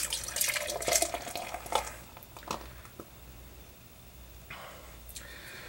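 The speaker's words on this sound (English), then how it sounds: "But let's give it a pour, shall we?" Craft beer poured into a glass jar: a splashing, gurgling stream for about two seconds, then a few soft clinks and fizzing drips, with a brief trickle again near the end, close and fairly quiet.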